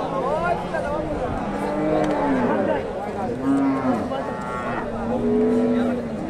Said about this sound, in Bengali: সুন্দর একটা গাভী।